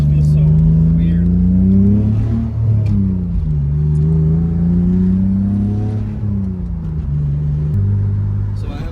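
A BMW engine rumbles and revs while driving, its pitch rising and falling through several gear pulls, loud and close from inside the car, with a person talking over it.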